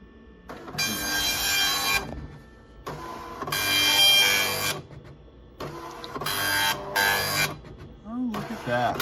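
A printer attached to a Tandy 1000HX computer chatters in loud bursts, print-head passes of about a second each broken by brief pauses, with a voice talking faintly near the end.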